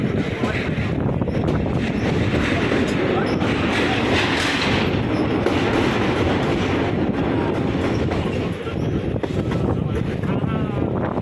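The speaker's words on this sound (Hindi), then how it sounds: "और इसी तरह हमारी कोयना एक्सप्रेस कोल्हापुर पहुंचेगी।" The Koyna Express train, a Pune to Kolhapur service, runs on the tracks with a loud, steady rumble and rattle of wagons, mixed with heavy wind noise throughout.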